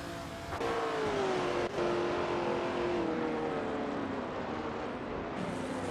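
Vintage supercars racing at Spa in a video game: a continuous, loud engine drone whose pitch slowly sinks, with a couple of brief dips, and no voices.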